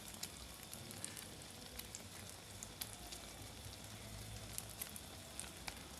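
A Spanish omelette fries in a pan over a low flame, giving a soft, steady sizzle with faint scattered crackles and pops throughout.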